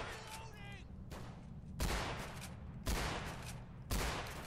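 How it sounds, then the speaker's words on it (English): Gunfire from an NPC cops-versus-robbers fight in Garry's Mod, with three loud, sharp shot bursts spaced about a second apart over constant background noise and faint earlier pops, ricochets off a railing. "He's shooting right through there, and they're hitting."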